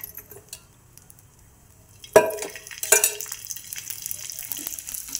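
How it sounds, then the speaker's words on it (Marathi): Garlic and ginger roast in a pan, a quiet stretch giving way to sudden clattering drops and a steady crackling sizzle close by, without talk. "लसूण, अद्रक हे पण भाजून घ्यायचं।"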